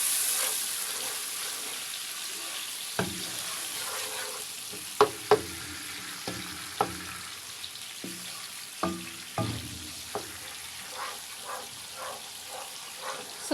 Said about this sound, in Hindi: ये देखें हमारे टमाटर और हरी मिर्चें अच्छे से भून रहे हैं।